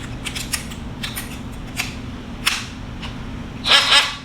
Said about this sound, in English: slide the blade out. You need to put it back in there.